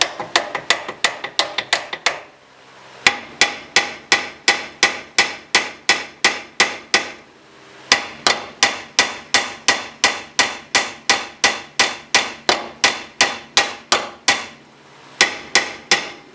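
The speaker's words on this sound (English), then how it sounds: "now I'm just going to hammer up on the castle nut" Sharp metal hammer blows ring out on a castle nut and steering knuckle of a 2003-2007 Honda Accord. The blows come in quick rhythmic bursts separated by brief pauses, loud and close.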